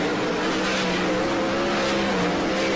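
Speedway race cars at Warrnambool Speedway in the 2002 GASCC heats, a steady engine drone with sustained harmonic whine and broad roar at moderate distance, continuous for the whole stretch.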